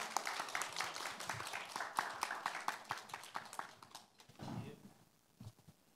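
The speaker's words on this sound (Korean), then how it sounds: "여러분 큰 박수 한번 부탁드립니다" Audience clapping at a policy forum in Busan as a session chair is welcomed, a moderate scattered patter of hands that thins out toward the end, with a short murmur of voice near the finish.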